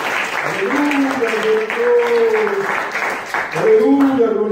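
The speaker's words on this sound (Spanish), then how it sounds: "¡Demos un aplauso al Señor!" Congregation clapping during an evangelical church service, steady applause mixed with shouting and singing voices that continue over the clapping throughout.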